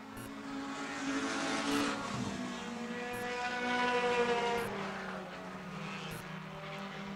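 Several mini race cars roar together around a short oval track at a Taxi Thunder Minis race, a steady blended engine drone rising and falling as they battle in close quarters, heard from a distance.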